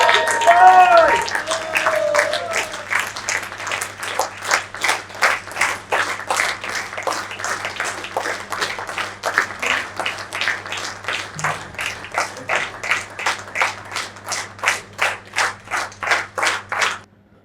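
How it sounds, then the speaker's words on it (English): An indoor audience applauds a speaker, starting with a brief voice, then steady clapping that settles into a rhythmic, unison beat of individual claps continuing for many seconds. "Give a big round of applause to"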